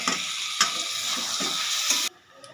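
Green peas fry in a hot pan with a continuous crackling sizzle, broken by several rhythmic stirring strokes before the sound cuts off abruptly near the end.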